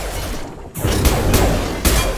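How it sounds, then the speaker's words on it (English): An overloaded canister blows up in Mass Effect 2. A short lull gives way to a loud, broadband blast, followed by further booming bursts of combat noise. "We can overload the canister to clear a path for the shuttles."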